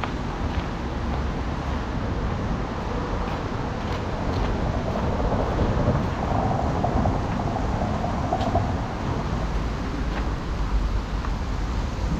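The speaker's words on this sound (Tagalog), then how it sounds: "Ang ganda ng fountain, no? Lakas, oh." Water rushes from a strong fountain in a European town's main square, a steady, loud, close wash of splashing that carries on without a break.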